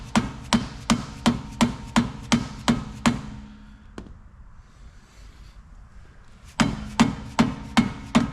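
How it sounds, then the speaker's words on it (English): Two plastic dead blow hammers knock a stuck shock shaft on a 2020 Porsche GT4 Clubsport in a garage. Rapid, evenly spaced heavy thuds stop for a quiet pause, then resume in the same steady rhythm. "So I'm using two plastic dead blow hammers to"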